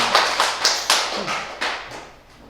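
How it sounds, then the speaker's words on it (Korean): Children at a church Sunday school service clapping in a handful of separate short bursts, about six sharp claps or taps spaced unevenly, moderately near and fading toward the end, with no talking. "박수."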